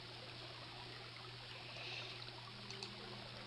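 A steady, soft rush of river water flows without a break in the King's Quest: Quest for the Crown countryside, a faint continuous trickle with a low hum beneath.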